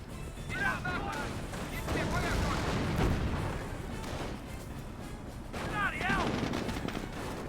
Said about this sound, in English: Panthers receiving fire from the 17-pounder